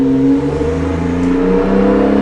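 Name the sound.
Porsche 911 Turbo 997.2 accelerating, shifting up a gear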